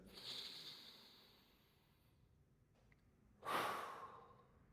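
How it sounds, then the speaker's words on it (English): A person takes a deep breath during a seated breathwork exercise for a slouched posture: a long breathy inhale, a pause, then a louder, close exhale that sighs out. "take another deep breath"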